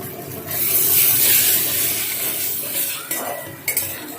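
Egg chilli being stirred in a pan right after a cornflour slurry goes in, a steady close scraping and swishing with a soft sizzle underneath and a couple of sharper knocks near the end.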